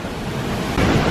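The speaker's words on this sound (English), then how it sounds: "There's a waterfall." Waterfall at Canyon Falls on a hiking trail, a constant broad roaring rush of falling water, loud and near, swelling slightly toward the end, with no voices.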